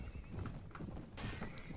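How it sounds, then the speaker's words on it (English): Hooves clop and a horse whinnies as the horse is cut down in a medieval video game battle, a muffled run of thuds and hoofbeats layered together without talk. "Okay, another horse down."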